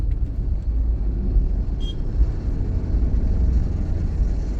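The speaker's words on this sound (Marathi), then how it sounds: "खूपच ट्रॅफिक जाम आहे घोडबंदरचं रोडचं" Heavy road traffic crawls in a jam on Ghodbunder Road, a steady low rumble of engines and tyres all around, dense and continuous without distinct passes.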